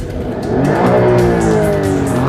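McLaren supercar in race mode, its engine revving loudly and steadily as it is shifted into drive, a rising, rich harmonic drone filling the moment without any voices.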